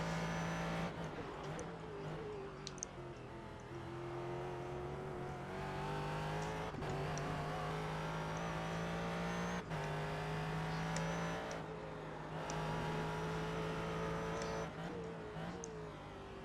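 Race car engine in a racing video game, a loud sustained high-revving drone with rising and falling pitch as gears change, several sharp shift breaks, steady and close throughout.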